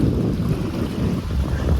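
Loud, rough wind and river water surge together in a constant roar, waves churning around a fishing boat on a river in New York, with heavy buffeting on the microphone.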